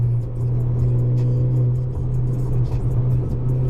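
A straight-piped Honda Accord 2.0T Sport drones loudly and steadily from inside the car while driving at night, with a deep constant exhaust rumble and slight dips in load.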